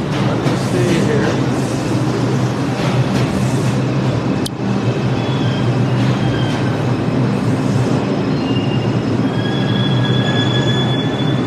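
Subway train rumbling along the rails with steady loud wheel and track noise, high metallic squeals running through it, a brief sharp clank midway, continuous throughout.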